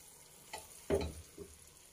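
Spinach frying in a pan gives quiet, intermittent sizzles and a few soft stirring scrapes, one brief louder burst standing out against a low, faint background.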